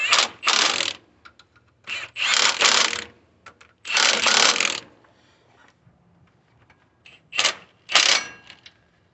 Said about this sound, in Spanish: ya podemos apretar todos los tres tornillos de enfrente y apretar también las dos tuercas que van en la parte de atrás